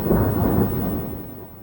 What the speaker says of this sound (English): That is the thunder.